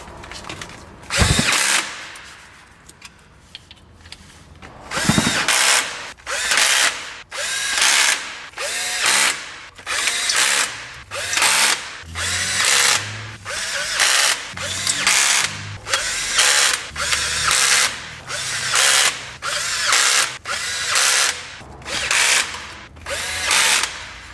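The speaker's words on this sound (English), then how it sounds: "So this is going to be my torque wrench. And as I run these down, I'm going to do it in a crisscross pattern." Bolts on the transmission pan of a 1997 Subaru Legacy are run down one after another in a crisscross pattern, giving a steady series of short, loud mechanical whirring bursts at close range, separated by brief pauses.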